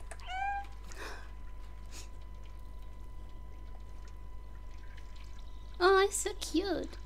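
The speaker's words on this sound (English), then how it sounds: "Let's meow." The cat in the video game Stray gives a short meow at the start, then a louder cluster of meows near the end, close and bright over a low steady hum, with a person talking quietly in between.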